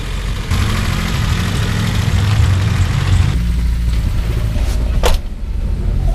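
An old car's engine runs during its first test drive after repairs for coolant and oil leaks. It makes a steady, loud, low rumble that shifts in tone partway through, with brief rattles.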